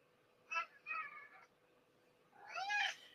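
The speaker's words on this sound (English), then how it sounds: "If you hear a cat, that is my cat Pig" A pet cat meows indoors, three separate cries: two short ones close together, then a longer, louder yowl after a pause, all against a quiet room.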